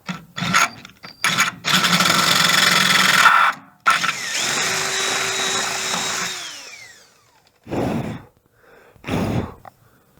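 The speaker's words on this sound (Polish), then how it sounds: "Rozwiercę go pod M10. Pod śrubę M10. Także bierzemy wiertło" Power drill boring out an existing hole to take an M10 thread with an 8.5 mm bit, in a farm workshop on an Ursus C-360 tractor part; bursts of whirring drilling with a long sustained run, pauses between, no talk.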